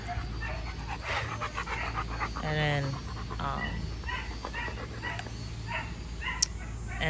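Dogo Argentino puppies pant and whimper close by, with a short burst of high whining cries in the middle, while a person talks over them.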